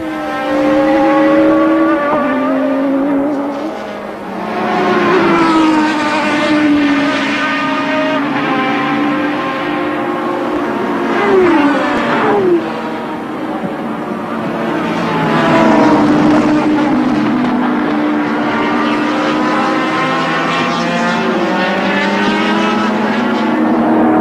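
A turbocharged, air-cooled race car engine in 1988 IMSA GTP sports-prototype racing revs loudly and continuously, its pitch climbing and falling through gear changes and passes over about twenty-four seconds, close by with no speech.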